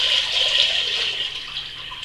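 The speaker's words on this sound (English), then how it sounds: "I'm just going to pour in my lovely liquid so you can see" Dark malt tea liquid for a stout brew poured steadily into a container, a continuous bright splashing rush that stays fairly loud throughout, then eases slightly near the end.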